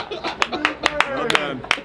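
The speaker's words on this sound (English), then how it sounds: "Wait, why am I clapping?" Hands clap about a dozen times in a quick, slightly uneven rhythm, sharp and close, with people talking and laughing over the claps.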